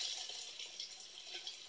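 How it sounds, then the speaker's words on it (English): An aquaponics system pump drawing down the last of the water before it shuts off, a steady hissing, gurgling water rush with small splashy fluctuations, close and continuous, no voices. "it just sucks down that remaining amount of water"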